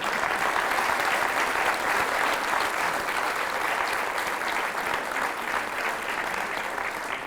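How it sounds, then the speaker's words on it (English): An audience bursts into steady, full applause, many hands clapping at an even level with no pauses and only a slight fade near the end. "If we could give them a round of applause,"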